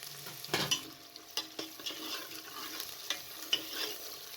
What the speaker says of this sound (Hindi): जैसे ही ऑयल गर्म हो जाए तो इसके अंदर प्याज को डाल दें